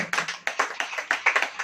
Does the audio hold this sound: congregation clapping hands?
yes